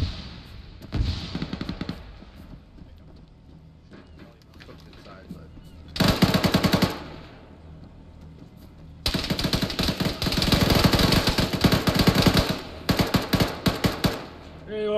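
Heavy machine gun firing from a building in a ShackTac Arma military game, long dense bursts of rapid shots separated by quieter gaps, with a sharp early shot and talk under the fire.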